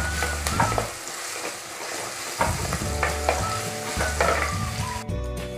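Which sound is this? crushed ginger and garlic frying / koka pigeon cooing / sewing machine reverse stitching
crushed ginger and garlic frying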